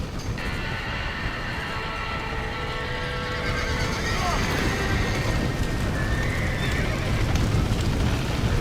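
Horses neigh and whinny in a Western video game, GunSlinger's Odyssey, with loud, drawn-out high calls over a rumbling, noisy background and hoof clatter.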